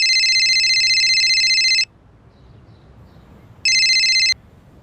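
A telephone rings with a bright electronic trill: a long ring of nearly two seconds, a pause of quiet room hiss, then a shorter second ring cut off abruptly, in a crime drama scene.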